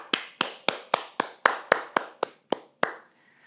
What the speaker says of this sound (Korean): 오늘도 우리 예배를 받으신 하나님께 우리 큰 영광의 박수 올려드립시다